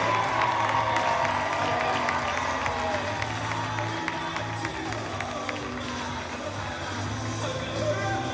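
A large arena crowd applauds a senior gymnast at a UNC gymnastics meet, with sustained clapping and cheering washing over a constant crowd roar, loud throughout.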